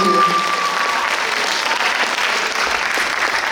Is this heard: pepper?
no